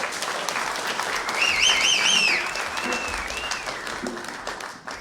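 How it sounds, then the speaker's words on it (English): An audience claps for a band at a mantra night, a steady round of applause with high whistles and whoops rising over it, fading toward the end. "big round of applause for the band"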